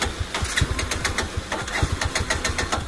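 A Bajaj V15 motorcycle with its petrol tank run dry is cranked repeatedly, giving a steady, close stuttering chug of rapid knocking turns that never catches, heard alone.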